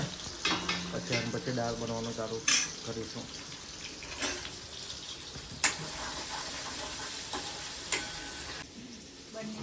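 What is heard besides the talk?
tempering moong beans, sizzling in hot oil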